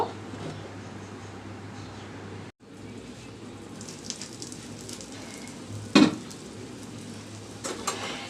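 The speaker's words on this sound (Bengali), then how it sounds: "এক চামচ পরিমাণ তেল দিয়েছি এই সাইডেও আমি দুই থেকে তিন মিনিট একটু মিডিয়াম টু লো আছে ভেজে নিব" Cabbage kofta fries in a spoonful of oil in a pan over medium-low heat, a soft continuous sizzle with occasional louder spatters and light utensil clinks.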